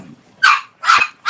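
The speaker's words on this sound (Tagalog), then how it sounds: "yung aso maingay" A dog barks twice up close, loud sharp yaps about half a second apart, with the start of a third bark at the very end.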